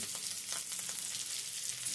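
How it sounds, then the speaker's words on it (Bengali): Chopped capsicum and onion stir-fry in a pan for chili chicken, giving a close, steady sizzle and crackle throughout with a few soft stirring scrapes and no voices. "ক্যাপসিকাম দেওয়ার পর আরও মিনিট 2 একটু নেড়েচেড়ে নেব।"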